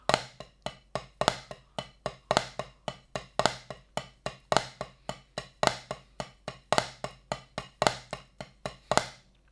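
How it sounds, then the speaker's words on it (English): Steady, evenly spaced snare-style drum strokes played alone as sixteenth notes, with a slightly heavier flam on each quarter note recurring at regular intervals. "we're going to be playing 16th notes with a flam on each quarter"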